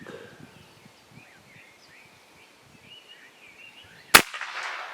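A single sharp crack from a Kral Arms Puncher Mega air rifle firing a pellet outdoors, loud and abrupt after quiet background with faint birds and rustling.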